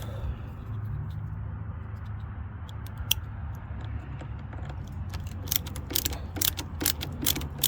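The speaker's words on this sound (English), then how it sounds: "Ratchet this off." A hand ratchet with a star bit clicks close-up as it backs out a car door trim screw, a steady low mechanical whir giving way to a rapid run of sharp metallic clicks toward the end.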